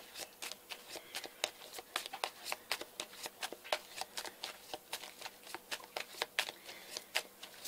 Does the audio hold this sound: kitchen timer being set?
no